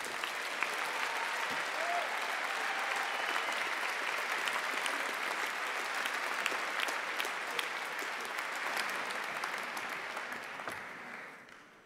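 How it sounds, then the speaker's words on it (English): Sustained applause from a large audience at a postgraduate university graduation ceremony, steady and even for about ten seconds before tapering off at the end. "Let's give them another round of applause."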